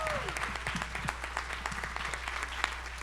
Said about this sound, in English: A huge round of applause for Amy, who has been the one that made this happen.